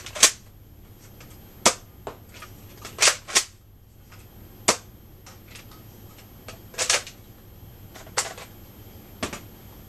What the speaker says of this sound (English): Those 3 elite darts were getting very nice, straight, accurate shots.